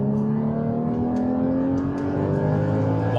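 Porsche 981 GT4 engine revving hard in second gear, a loud, close, steady rising whine that winds out without a break.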